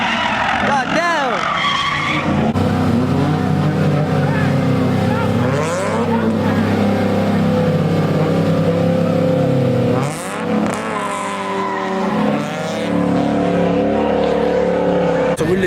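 A Mustang on 20-inch wheels revving hard at a large street car meet in an intersection, loud engine roar rising and falling with tire skids, crowd voices underneath.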